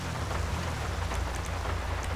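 Steady, dense rain hisses loudly and evenly with no pauses during an offroad drive in GTA 5, and no voices are heard.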